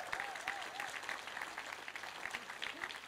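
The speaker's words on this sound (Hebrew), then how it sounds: "כן, מגיע לו, מחיאות כפיים." An audience at the 2018 Vegan Congress claps steadily and warmly, a dense, even applause that carries on without a break and with no voices on top.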